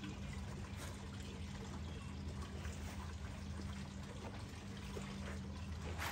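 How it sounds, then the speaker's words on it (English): Old gasoline trickles out of a Honda G300 engine carburetor, a faint steady pouring and dribbling over a low hum of background noise throughout. "And it looks like all that gas was pouring out the carburetor itself."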